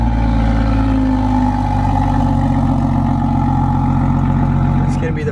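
A BMW 440i with a catless downpipe and straight-pipe exhaust drones loudly and steadily up close, a deep rumbling engine tone with voices talking over it.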